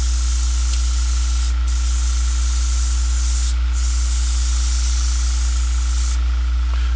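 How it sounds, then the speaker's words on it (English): An airbrush sprays paint onto a model in a steady, close, continuous hiss, broken by three brief pauses as the trigger is released, with no talking. "Gotta be careful when you airbrush too"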